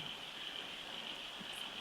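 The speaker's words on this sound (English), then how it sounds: "use the sound of that rain, I'm assuming it's coming through to you" Soft, steady rain falls as an even, distant hiss, faint and unbroken, with no talking.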